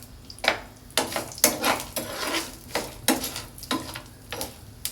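Chana dal, peanuts, cumin seeds and a few cashew pieces fry in a pan, with a steady run of scraping stirs and light sizzling at close range; no voices.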